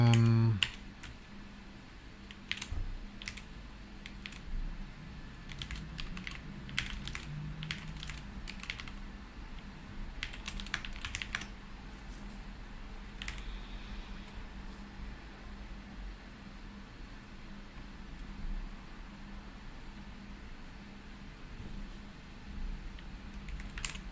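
Computer keyboard typing during a Linux kernel build, clusters of quick clicky keystrokes in bursts over a steady hum of fan and room noise, with pauses between runs.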